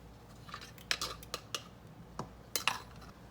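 A spoon scrapes and clinks against a bowl while tempered eggs are stirred into a cheesy squash casserole mixture, giving a string of sharp, close knocks and taps at an uneven rhythm, with no one talking.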